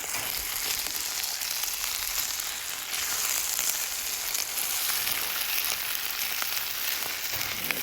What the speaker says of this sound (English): And we're stirring that up